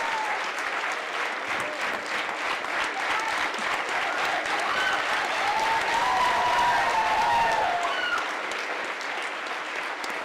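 Sustained applause from the audience at the Sainik School Korukonda Golden Jubilee, steady and dense for about ten seconds, with some cheering or whistle-like tones rising briefly in the middle.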